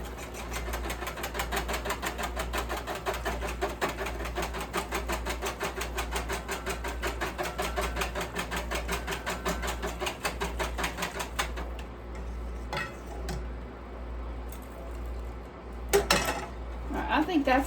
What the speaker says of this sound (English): start whisking again